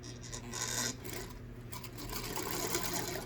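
A sewing machine runs close by, stitching a 5/8 inch seam allowance along the side of an off-the-shoulder lavender dress with a fast, even mechanical whir that pauses briefly mid-run, no voice over it.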